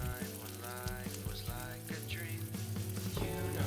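Garlic tempering dropped into hot oil, a dense continuous sizzle and spatter throughout, close and fairly loud, with some background clatter and tonal hum mixed in.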